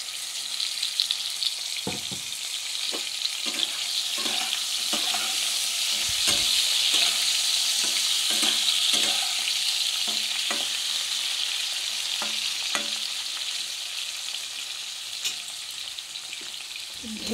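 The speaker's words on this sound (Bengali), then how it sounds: "পেঁয়াজ ভাজা ভাজা হয়ে এসছে।" Onions sizzle loudly in oil as a spatula scrapes and stirs the pan in a loose, repeated rhythm against a constant frying hiss.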